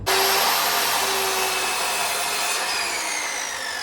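Power saw cutting a wooden board in half for a bookshelf, a loud, dense, steady whirring buzz that starts abruptly and holds for nearly four seconds with no pauses.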